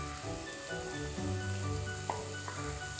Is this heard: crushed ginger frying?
yes